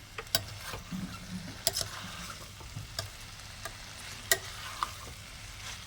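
Beans and carrots stirred and sautéed in oil for a vegetable kurma, giving a soft steady sizzle under repeated clacking strikes and scrapes of a spoon against the pan, close by with no talking.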